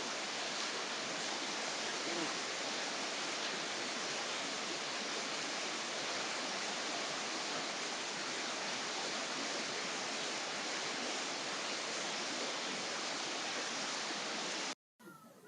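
River water flowing at San Agustín, Huila, Colombia, a steady loud broadband rush with no break until a brief cut near the end.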